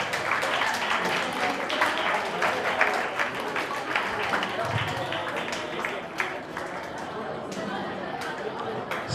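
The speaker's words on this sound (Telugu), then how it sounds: "గట్టిగా కొట్టాలి చప్పట్లో" Applause from an audience at a closing ceremony of an eye donation awareness event, steady clapping with crowd chatter throughout, moderately loud and sustained.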